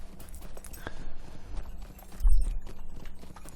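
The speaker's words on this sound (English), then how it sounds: "So let's go ahead and get on our horse." Horse hooves clip-clop at a steady walking pace while riding in a video game, fairly close, over faint background ambience with a heavier thud partway through.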